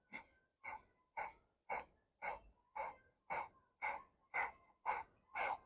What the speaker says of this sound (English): It's strong with that breath of fire.